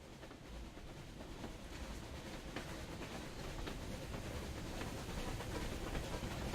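A train rolls through a snowy landscape in Metro Exodus, a faint, steady rumble with soft rattling that builds slightly over time and carries no voices.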